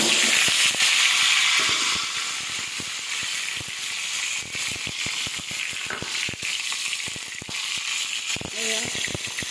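Hog plums drop into hot oil seasoned with five-spice tempering and set off a loud hiss at once. A bright, crackling sizzle follows and settles, with scattered pops running through it.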